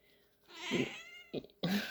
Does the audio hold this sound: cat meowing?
yes